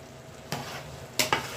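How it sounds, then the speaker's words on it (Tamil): Rice and vegetables being stirred in a pot for South Indian style veg biryani, with a few soft scraping strokes and two short bursts near the end over a quiet kitchen background. "லேசாக கிளறி விட்டேன்."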